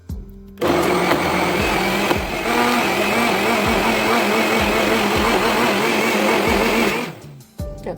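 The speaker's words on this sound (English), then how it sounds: "it's time to blend it up." A blender whirs steadily through an aloe vera hair treatment mixture, starting abruptly and running loud and continuous for several seconds with a rhythmic churning pulse before cutting off near the end.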